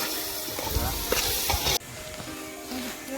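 Chopped onion and tomato cook together in a hot pan, sizzling loudly while a spoon stirs with soft scrapes. Partway through, the hiss drops sharply to a quieter simmer. No speech.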